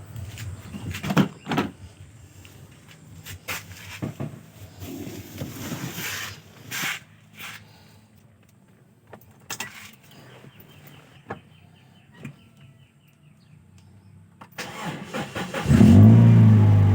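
A car's starter motor cranks and the engine catches and runs after a drooping wet-cell battery was repaired, with clicks and short bursts before a loud, steady idle rises at the end.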